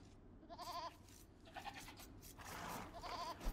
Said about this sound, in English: It's a sheep, I believe.